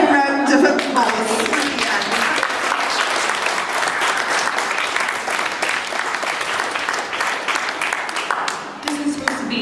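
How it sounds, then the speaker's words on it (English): A large audience at a 2016 young writers award presentation claps loudly and steadily for nearly ten seconds in a dense, sustained wash. A voice briefly rises at the start and end. "So a big round of applause."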